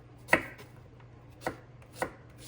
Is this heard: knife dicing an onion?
yes